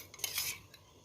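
A brief clink and scrape of a metal spoon adding washed lentils to a pot, quiet and close, over in about a second.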